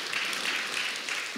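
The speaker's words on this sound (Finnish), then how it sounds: "taputetaan tuossa ihan heille tervetuliaas taputukset." Scattered applause from an audience welcoming guests at a church worship event in Kouvola, a brief diffuse patter of clapping at moderate distance.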